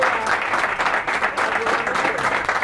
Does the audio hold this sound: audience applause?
yes